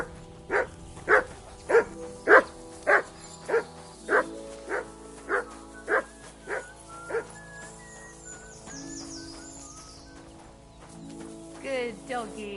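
A dog barks in Kingdom Come: Deliverance II, about a dozen loud evenly spaced barks close by, then it quiets to soft whines under faint background sounds.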